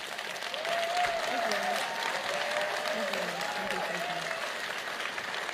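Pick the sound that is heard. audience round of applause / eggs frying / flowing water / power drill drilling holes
audience round of applause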